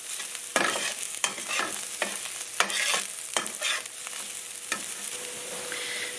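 Garlic frying in a pan for ground-beef Mexican pizza, a steady close sizzle broken by several sharp stirring scrapes and clatters spaced about a second apart, with no talking.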